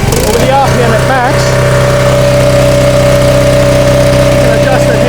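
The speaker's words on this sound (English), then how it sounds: "your Honda P40 is still running at max" A Honda engine runs at maximum RPM on a pressure cleaning and soft wash roof treatment trailer, a loud, steady drone with a strong hum, with someone talking over it.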